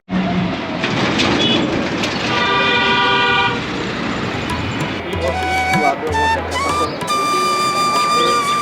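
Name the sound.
metro train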